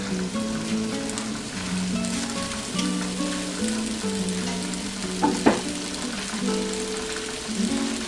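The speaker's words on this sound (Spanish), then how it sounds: "vamos a poner aquí nuestros ajos, aquí también se hacen." Garlic frying in a pan alongside pork chops cooking in a rustic kitchen, a steady close sizzle and crackle that runs throughout with a few sharper pops near the middle.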